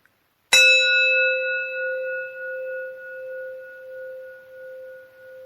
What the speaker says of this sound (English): Listen to the sound of this gong.